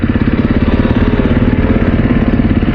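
A KTM dirt bike engine idles nearby on a green lane in the Yorkshire Moors, with a loud, steady throb and a fast, even pulsing rhythm and no voices.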